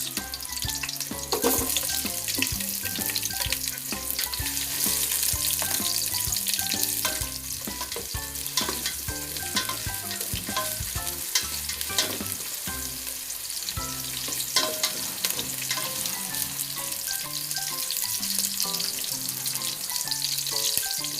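Onions sauté in a hot pan for chicken tinola, a dense continuous sizzle with repeated scraping stirs and occasional water splashes, close and steady with no one speaking.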